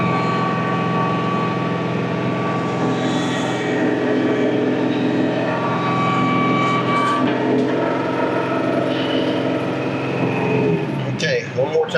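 Tractor pulling an IronCraft 2510 flexwing mower through very thick grass, a steady loud engine drone with humming tones running throughout, a brief clatter right at the end.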